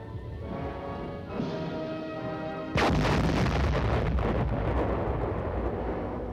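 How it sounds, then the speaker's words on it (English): A deep rumbling roar builds, then a sudden massive blast of a military charge simulating an atomic explosion erupts and thunders on, loud and sustained, like a huge explosion. "will set off the charge which simulates an atomic explosion."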